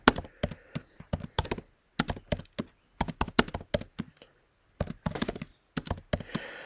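Variables are keyed into a calculator in quick bursts of crisp, close button taps, clusters of clicks separated by short pauses.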